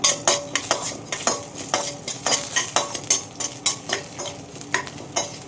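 Chana dal frying in hot oil with a lump of asafoetida in a pan, loud close sizzle with repeated sharp scrapes and clinks of a metal spoon stirring against the pan.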